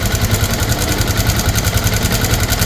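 An engine runs steadily with an uneven knocking rattle, loud and close, with no voices.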